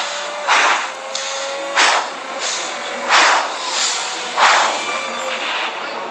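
An F1 driver breathes heavily after a crash, picked up close and loud over a hissing radio line, with about five deep, regular breaths roughly a second apart.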